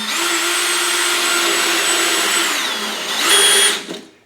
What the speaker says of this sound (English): If you're using a step drill, be careful not to drill the hole too large